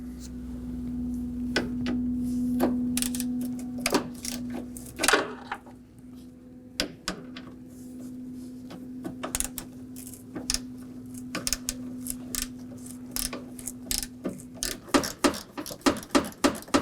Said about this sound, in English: Now we could go ahead and remove the 7mm bolt on the corner